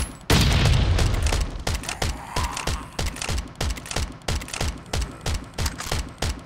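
Rapid grenade launcher fire against a tank in Last Island of Survival, heard as a steady stream of sharp, evenly spaced blasts with a heavy boom at the start, loud and close, with no talking.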